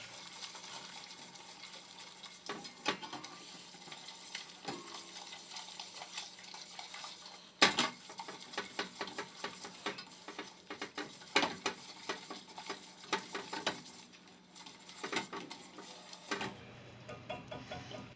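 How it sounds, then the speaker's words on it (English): Butter is stirred into caramel in a pan while making candied bacon, with soft sizzling throughout and irregular scraping and clinks of the utensil against the pan, close by and fairly quiet. "All I'm trying to do is getting the butter to mix with the caramel"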